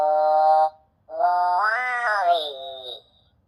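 Mattel remote control Wall-E toy robot emitting two short electronic chirping vocal sounds, the first brief and the second longer with a rising then falling pitch, close and clear with no talking.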